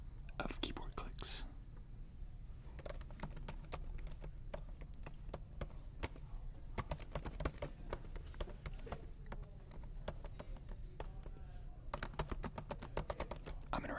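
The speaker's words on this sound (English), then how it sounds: "please enjoy these wonderful sounds of keyboard clicks" Rapid, irregular clicking of laptop keys being typed, close and fairly quiet, with bursts of keystrokes and short pauses, plus a soft whispery hiss at the start.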